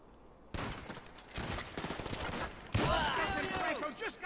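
Gunfire in Grand Theft Auto 5 comes as loud, rapid bursts of shots at close range, with a second heavy burst later and scattered voices shouting over it.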